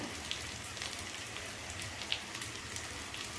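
Steady rain falls outside a home kitchen where eggplant and potato curry is being cooked, a dense, even patter with occasional louder drops and no voices.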